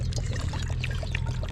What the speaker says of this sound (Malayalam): വെള്ളം ഒഴിക്കണം.